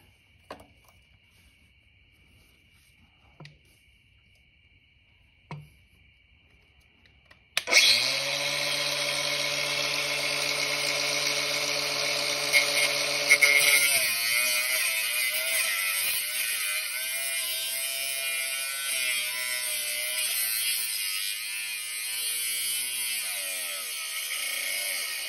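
An angle grinder fitted with a bigger wheel starts after a few quiet seconds with faint clicks, then whines loudly and steadily near at hand, its pitch settling partway through as it keeps running.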